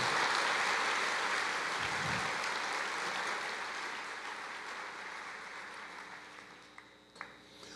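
A church congregation applauds during a sermon, a dense, steady wash of clapping that slowly fades over several seconds.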